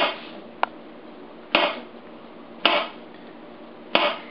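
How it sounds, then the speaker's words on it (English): A knife slices bananas into small rounds on a cutting board. It makes three sharp, close knocks on the board about a second apart after a lighter initial tap, with a quiet background. "You're going to take it and you're just going to cut it into little slices."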